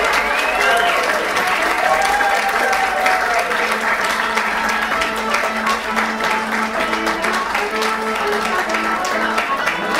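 A live comedy improv audience claps loudly and steadily as two mock presidential candidates are welcomed onto the stage, a dense, close wash of applause with a voice speaking over it.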